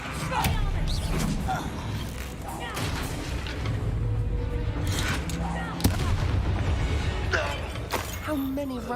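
A Bombarda blast spell detonates amid a busy Harry Potter video game fight against goblin loyalists, a sharp burst within dense game effects, music and talk.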